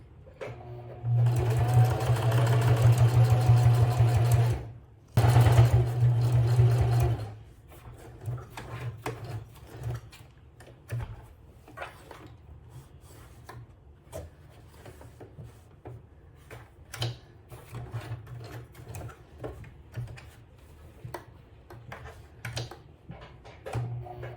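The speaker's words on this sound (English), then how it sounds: "continue to sew straight down. Okay, now I'm working on the other side of the webbing." A sewing machine stitches webbing on a travel bag in a steady, loud, continuous hum that breaks briefly and resumes, then gives way to quieter handling clicks and rustles.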